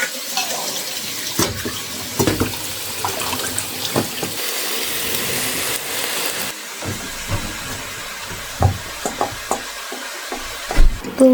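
Water runs from a tap in a steady splashing stream, with occasional clinks and knocks of kitchenware nearby; no talking.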